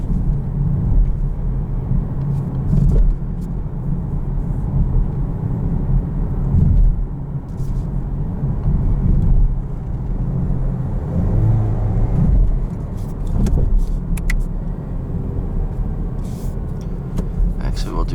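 A 2020 Chevrolet Camaro LS drives along with a low, steady engine and road rumble heard from inside the cabin, while a person talks over it.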